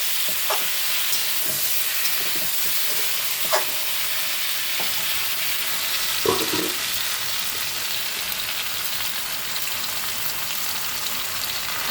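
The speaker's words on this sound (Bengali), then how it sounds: "আলু কাঁচকলা দিয়ে ভেজে নিচ্ছি।" Potato and raw banana pieces frying in a pan with salt and turmeric, producing a steady, close sizzle with a few scattered stirring scrapes and taps.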